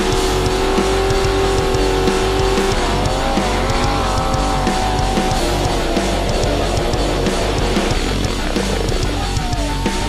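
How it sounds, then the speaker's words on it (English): Trucks churn through deep mud at a mud bogging event in the USA, with dense, loud, unbroken engine roar and revving filling the whole stretch. "we've got trucks in the mud"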